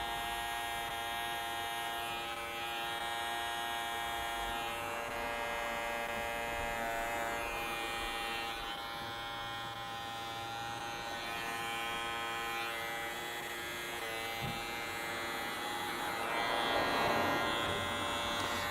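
Steady electric buzz of a hair trimmer working on a man's hair around the ear and front hairline, a close, continuous whirring hum that holds evenly throughout with no voices.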